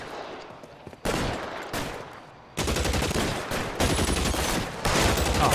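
Bursts of gunfire from a game, loud and close, arrive in several sharp volleys separated by brief gaps, with rapid repeated shots in the later bursts.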